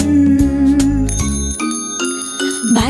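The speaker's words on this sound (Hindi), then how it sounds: "बाइसिकल की घंटी करे रिंगालिंग रिंगालिंग रिंगालिंग" Bicycle bell in a Hindi children's nursery rhyme, ringing in bright metallic tones layered over loud bouncy backing music, with several dings sounding across the stretch.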